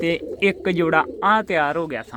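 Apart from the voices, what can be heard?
No everyday noises stand out.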